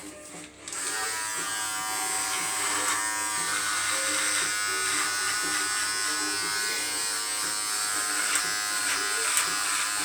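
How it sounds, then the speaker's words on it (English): An electric shaver buzzes continuously while shaving off a handlebar moustache, a steady, close, high-pitched motor drone with slight changes in tone as it moves over the hair. "When I shave this off,"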